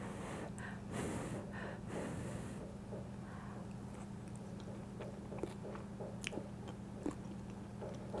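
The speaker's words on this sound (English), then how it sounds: "Let's just take a taste of the casserole itself" Close, steady chewing and biting on a bite of spicy chili casserole with onions, soft squishy mouth sounds repeating for several seconds over a constant low hum, with no talking.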